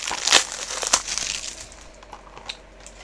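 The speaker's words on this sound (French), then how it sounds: "Donc, on va déballer le boîtier." A Wayne's World 4K Ultra HD film case is unwrapped, with bursts of plastic crinkling and crackling, loudest early and then thinning to sparse, softer rustles close by.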